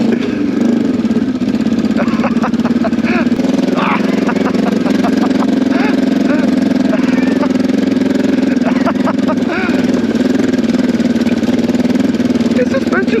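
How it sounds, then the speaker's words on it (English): A Kawasaki KLE 500 adventure motorcycle riding on a Welsh green lane, its engine a steady, loud, close drone throughout, with a rider's voice talking over it at times. "The KLE, the Adventure KLE. I feel like I'm on a super bike."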